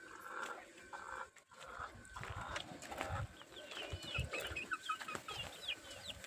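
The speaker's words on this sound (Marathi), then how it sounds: "ह्या पांढऱ्या कोंबड्या आहेत बघा।" White hens on a farm cluck in short, scattered bursts, faint and slightly distant, with light rustling and farmyard noises between the calls.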